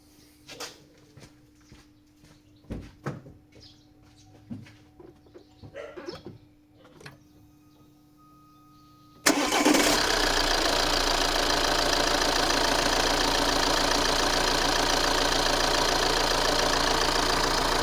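A 2.0 Opel Insignia engine starts after a few seconds of small clicks and knocks, catching abruptly and settling straight into a loud, steady, close idle that runs to the end.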